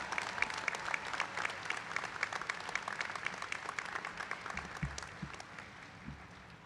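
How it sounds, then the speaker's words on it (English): A large crowd applauds the 2023 nursing and optometry graduates at a college commencement ceremony. The clapping is sustained and even but distant and fairly quiet, thinning slightly toward the end. "Let's hear a round of applause and respect for these graduates"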